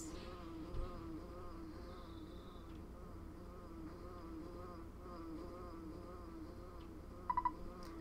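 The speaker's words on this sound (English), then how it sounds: "Ness, do you hear a buzzing that sounds like a bee flying around?" A faint, continuous bee buzzing from the video game Earthbound hums over a low background game soundtrack, with a small triple chime near the end.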